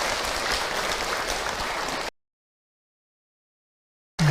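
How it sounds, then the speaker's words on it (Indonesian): An audience at an Islamic religious talk claps for a person who has just shared a story. The applause is a loud, dense wash for about two seconds, then stops abruptly into silence. "Tepuk tangan untuk beliau yang sudah bercerita."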